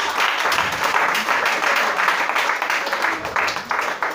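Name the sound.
congregation applauding the Lord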